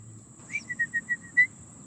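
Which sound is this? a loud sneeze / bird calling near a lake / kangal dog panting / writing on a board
bird calling near a lake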